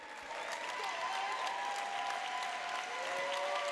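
Steady applause from a political conference audience welcoming a mayor, continuous and fairly dense throughout, with no voices standing out.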